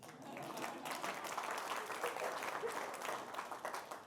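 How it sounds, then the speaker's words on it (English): Audience applause at a talk, steady dense clapping that holds evenly for several seconds, fairly quiet and heard from some distance. "Some people like to applaud at this point."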